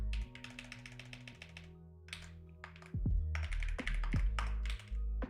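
Keyboard typing at a computer, a keyboard slightly smaller than usual, comes in bursts of quick close taps over a steady hum, with a few louder thumps midway.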